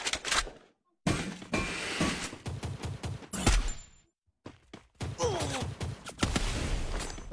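Gunfire and blasts in the mobile battle game Free Fire, with bursts of shots and sharp impacts coming in loud clusters separated by brief silent gaps.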